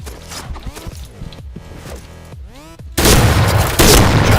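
A UTS-15 shotgun fires in a video game: two loud, sharp blasts close together near the end, following a quieter stretch of tonal game sound.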